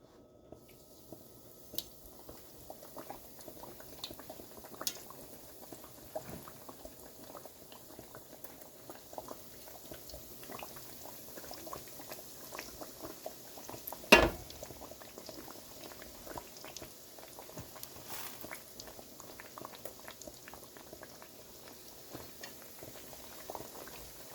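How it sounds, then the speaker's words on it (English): Steady bubbling and crackling of a chicken cutlet frying in hot oil, with scattered pops and one sharper sizzle burst midway, continuous throughout with no talking. "we're going to put the chicken cutlet inside the frying pan"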